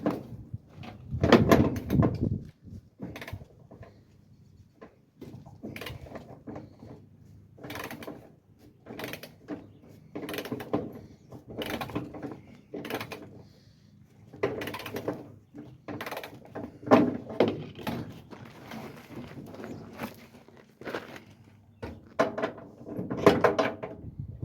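Work on the door bolts of a 1956 Chevy two-door, with scattered clanks, ratchet-like clicks and metallic knocks of tools and hardware, irregular and close, with no talking.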